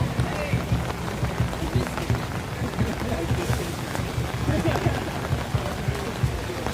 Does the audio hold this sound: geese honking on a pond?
no